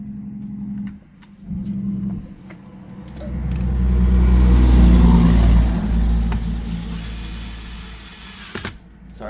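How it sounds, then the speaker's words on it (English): A car rumbles past nearby, its low engine noise swelling to a peak midway and fading away, with other traffic humming faintly in the background. "Sorry for the background noise of the cars going by."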